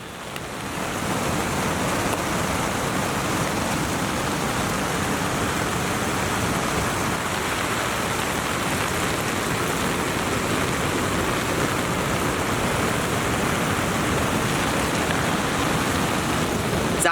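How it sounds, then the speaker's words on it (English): Heavy rain pours steadily onto a tarp at a remote Arctic river campsite, a loud, unbroken hiss that goes on throughout. "it is absolutely pouring on us right now"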